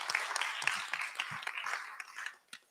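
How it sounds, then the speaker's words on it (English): Faint, scattered applause from an audience at a community debate on Benton Harbor's future, uneven clapping that thins out over a few seconds. "Please give him a round of applause"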